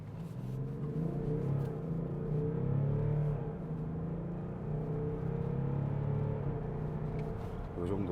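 A BMW X5 diesel SUV accelerating hard in sport mode, a steady low engine drone and rumble that rises in pitch as it pulls, heard from inside the cabin.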